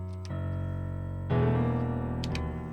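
Piano tones from a Nord Stage 3 keyboard, fed by MIDI through Pro Tools: sustained chords played alone, with a fresh chord struck about halfway through and a brief higher note near the end.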